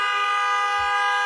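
A car horn sounds in a steady, loud toot that lasts the whole moment, set against traffic with no voices on top.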